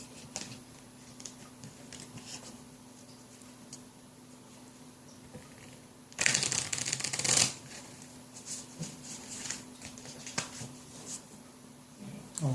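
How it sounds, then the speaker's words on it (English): A deck of encounter cards for a board game is shuffled by hand, a dense burst of riffling lasting about a second amid quieter handling noises in a quiet room. "get shuffled into the deck."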